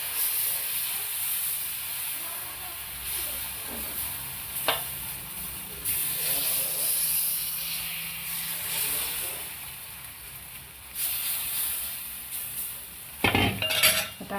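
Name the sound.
stirring rice flour batter in a pan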